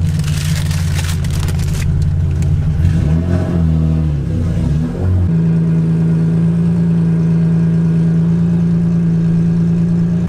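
A car engine running on E85 fuel revs in a few rising, wavering bursts, then settles into a smooth, steady idle without sputtering, loud and close with no talk.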